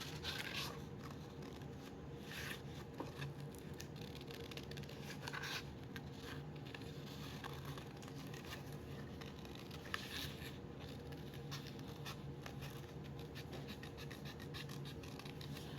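Party favor material being cut by hand, giving a faint, steady scratching and snipping that runs continuously and close up, with no talking.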